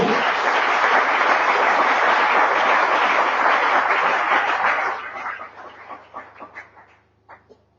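A church congregation bursts into sustained, loud applause and cheering acclaim, dense and continuous for about five seconds before thinning into scattered claps and a few last sharp ones.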